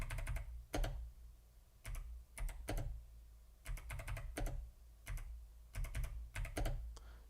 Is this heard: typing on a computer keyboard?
yes